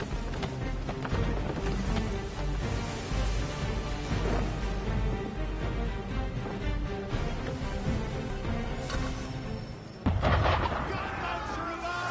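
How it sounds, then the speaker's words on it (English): Cannon fire aimed at a ship in the video game Assassin's Creed III: heavy booming blasts over dense rumbling background, with a loud fresh boom near the end. "Why is he shooting at us?"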